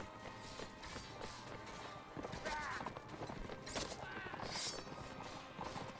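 Horses gallop across a Mount and Blade Warband battlefield, a steady busy drumming of hooves and clatter running throughout with someone talking over it.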